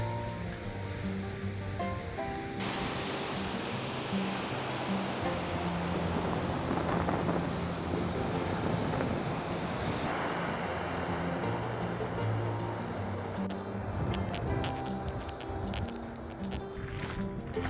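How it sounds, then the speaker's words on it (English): Steady broadband surf roars continuously at Colac Bay, South Island, New Zealand, with waves washing in and swelling louder near the middle, under wind and no talking. "here's Colac Bay and the ocean"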